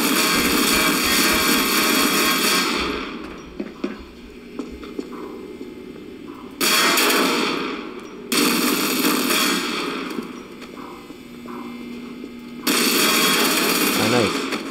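Gunfire in a Spider-Man backrooms video game with Huggy Wuggy: dense, continuous automatic shooting that runs in long bursts with brief pauses, loud and close, layered over game noise.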